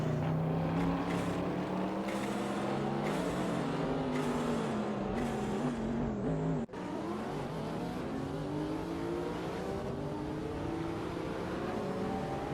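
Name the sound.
AI-driven hypercars racing at Spa in a racing simulator game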